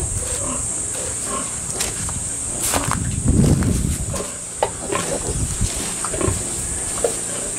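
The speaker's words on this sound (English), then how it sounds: "There's still a pile of pigs in this pen." Pigs grunt and snuffle in a farm pen, a close, fairly loud cluster of low grunts with a louder burst midway, over a steady high-pitched background hum.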